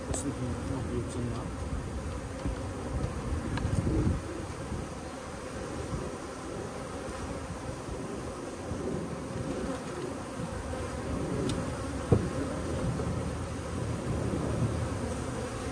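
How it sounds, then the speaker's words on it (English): A swarm of honey bees drones steadily throughout a bee removal, a dense continuous buzz with occasional individual bees passing close, moderately loud and without talk. "Literally bee madness. Bees everywhere."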